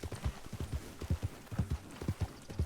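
Horse hooves clip-clopping at a steady walking rhythm in a Red Dead Redemption 2 roleplay game, close and fairly quiet with a low rumble beneath.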